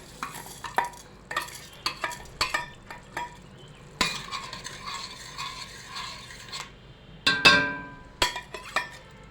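Spoonfuls of washed rice tipped into a cooking pot on the stove for a spinach dish, giving a series of close scrapes, stirs and soft clinks of a metal spoon against the pot with a faint sizzle, no talking.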